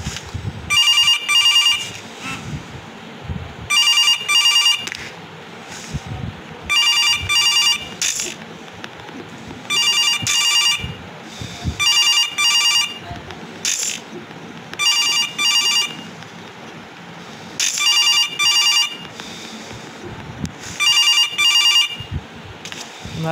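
Telephone ringing in the horror video game The Control Room, sounding in about eight evenly spaced, loud double bursts of bright electronic trilling, with faint shuffling and low background noise between rings.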